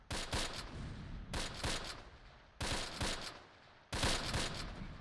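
Gunfire in the Close Combat wargame, set at Tirepied in August 1944: four loud bursts of rapid shots about a second apart, each trailing into rumbling battlefield noise, with no talk.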